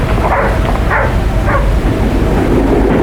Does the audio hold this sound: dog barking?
yes